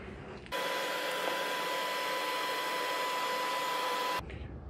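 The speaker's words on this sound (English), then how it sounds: "Let's vacuum all this up" A vacuum cleaner sucks up chimney soot and creosote debris, switching on abruptly into a loud steady whine with a constant tone, running for several seconds and then cutting off sharply.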